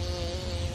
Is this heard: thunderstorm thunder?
no